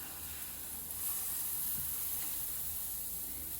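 Waffle batter cooks in a hot waffle iron with a faint, steady hiss of sizzling and steam, even and unbroken throughout.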